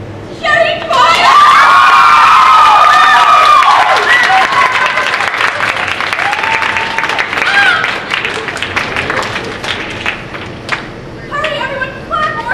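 Applause and cheering from a theatre audience greeting an author at a staged mystery show, loud and sustained, with shouts, whoops and children's voices mixed in, then tapering to scattered clapping.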